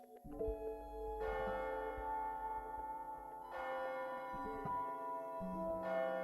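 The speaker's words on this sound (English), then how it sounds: "Is that the bell? The clock moved. Midnight." A church-style bell tolls midnight in the video game AI: The Somnium Files – Nirvana Initiative. Several loud, ringing strikes come at a slow, even pace, each with a long resonant decay, over a steady background tone and with no talking.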